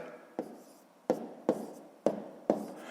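A pen writes numbers by hand on paper for a fifth-grade maths exercise, making quiet close scratching strokes, five distinct taps and scrapes spaced about half a second apart with no talk.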